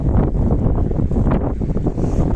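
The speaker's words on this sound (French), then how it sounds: "Il y a beaucoup de vent." Strong wind buffets a microphone on a wild beach, a steady, loud, broadband roar with gusty surges throughout and no voices.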